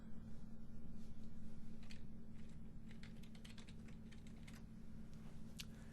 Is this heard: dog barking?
no